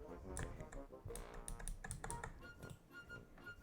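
Computer keyboard keys, the up and down arrow keys, tapped repeatedly in quick, irregular clicks, fairly close and steady over a dense background of other sound.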